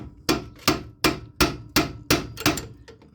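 Seven sharp metallic hammer blows on a 2009 Nissan Rogue tie rod at a steady, fairly quick rhythm, close and loud, with a brief clatter after the last strike.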